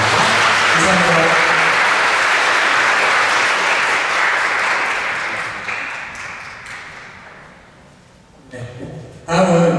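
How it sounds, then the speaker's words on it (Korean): Loud, sustained applause from an audience at a school mentoring program ceremony at Gyeongnam Technical High School, dense clapping that gradually fades, briefly surging again near the end. "자, 뜨거운 박수 다시 한번 부탁드리겠습니다"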